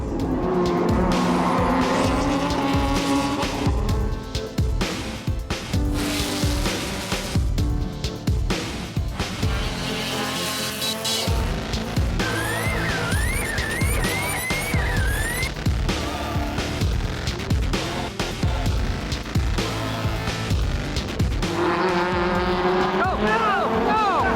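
Race cars roaring around a track during a race, engines whining and shifting with tire squeal, loud and continuous with talking over it.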